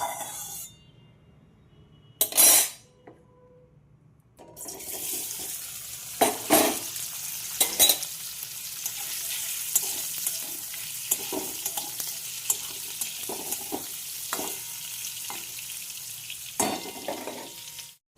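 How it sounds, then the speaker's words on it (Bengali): Paneer frying in a pan, a steady close sizzle broken by several sharp clanks and scrapes of a spatula against the pan, starting quieter and growing fuller after a few seconds. "চলো পনিরটা ভাজি একটুখানি, একটু হ্যাঁ পনিরটা একটু ভেজে নিয়ে ভালো লাগে না আমার কাঁচা পনির দিতে।"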